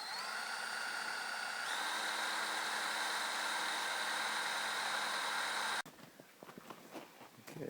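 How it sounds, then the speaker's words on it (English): A drill runs at high speed boring a tap hole into a maple tree for syrup, a loud, sustained whine lasting about six seconds that cuts off abruptly, followed by quieter rustling and handling sounds. "Put your drill up on high speed, buddy."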